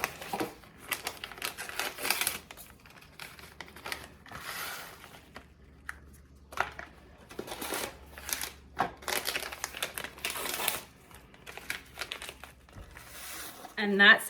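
Crinkling and rustling of a plastic freezer bag and an onion soup mix packet as the mix is poured in for beef freezer meals, busy close handling in irregular bursts, with a voice heard at moments.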